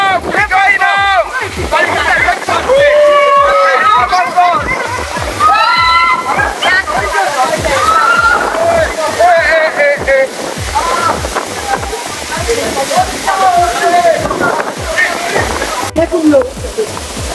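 Water rushes and splashes continuously at Erin Ijesa Waterfalls in Nigeria, with excited voices talking and shouting loudly over it throughout.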